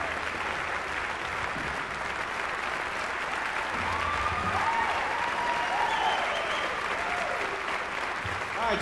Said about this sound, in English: I give you a good clapping.